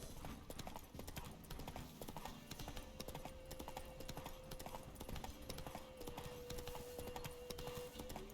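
In The Witcher 3 video game, horse hooves clip-clop in a steady trotting rhythm, continuous and fairly even throughout under a faint game soundscape.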